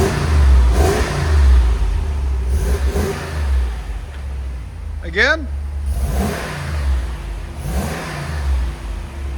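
A 2025 RAM 2500 with a 6.4L HEMI V8 on stock exhaust, revved in several quiet, deep pulses over a rumbling idle, while a person talks briefly.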